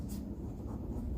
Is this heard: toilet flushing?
no